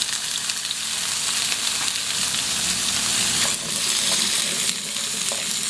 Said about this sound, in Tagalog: Magprito na po tayo ng carrot at potato.